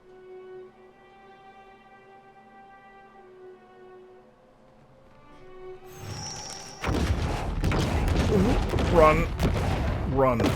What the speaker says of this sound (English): us running away from the explosion